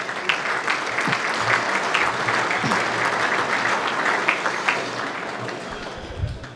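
Sustained applause from a large crowd, dense and steady throughout, with a few louder claps standing out near the end.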